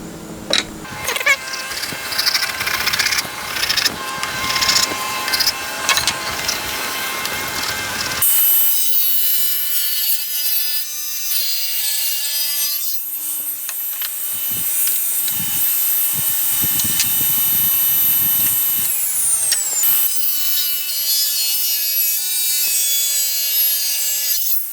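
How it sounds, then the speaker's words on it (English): A steel chisel scrapes a wooden drill press table in a workshop, a close, steady rasping with repeated strokes, preceded by a few seconds of louder, busier shop noise. "Let me scrape with a chisel first."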